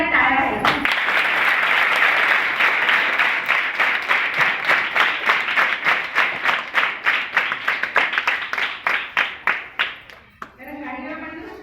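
An audience at a sanitary napkin awareness program gives loud applause, starting as a dense roar and settling into rhythmic unison claps that fade out before a voice resumes.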